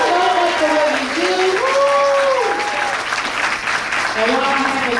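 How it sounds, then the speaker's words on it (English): A school celebration crowd claps and cheers for a staff member, a dense, loud stretch of applause with voices calling out over it and a few scattered whoops rising and falling. "let's give her a round of applause"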